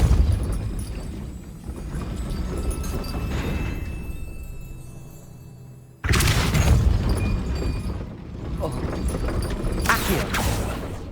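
A Depulso spell lands in Hogwarts Legacy with a heavy booming blast that cuts in sharply midway, followed by rumbling, crashing bursts over a dense, continuous game soundscape.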